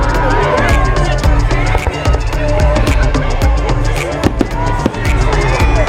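Fireworks at a Canada Day celebration pop and crackle densely and continuously, loud and close, over crowd noise and talk.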